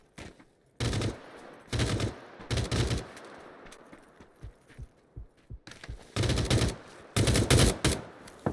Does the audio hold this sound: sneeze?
no